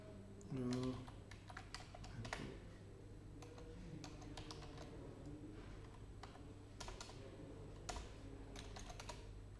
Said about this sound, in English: See how less I am typing.